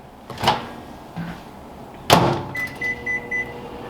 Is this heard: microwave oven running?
yes